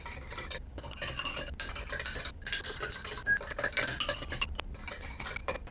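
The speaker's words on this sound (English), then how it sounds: "We're going to do a quick speed up of the stirring, and we're going to get all that sugar dissolved" A spoon stirs sugar into lemonade in glasses with a steady, close run of scraping swirls and bright clinks against the glass, continuous and fairly loud with no voices.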